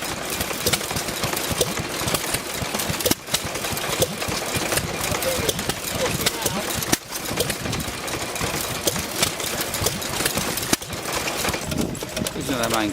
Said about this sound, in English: The 1936 Jaeger, owned by Ricky Quemp.